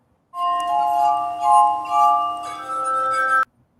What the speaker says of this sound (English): And here it's glass glass harmonica, which is amazing.